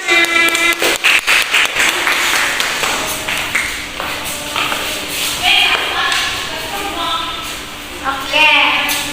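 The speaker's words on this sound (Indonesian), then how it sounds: "minta tepuk tangan." A class of students in a school lesson claps at the teacher's request, several sharp, uneven claps near the start that thin out, followed by chatter and a voice over quieter room noise.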